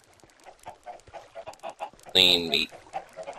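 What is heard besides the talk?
chickens clucking in a video game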